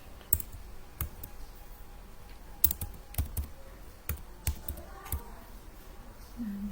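Scattered clicks and taps of typing on a computer keyboard while writing Python code, irregular keystrokes close by with short pauses between bursts.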